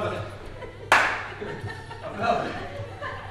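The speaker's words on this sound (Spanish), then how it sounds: "Aplaude." People clap their hands during a strength and HIIT workout, one sharp clap standing out against ongoing talk and light laughter.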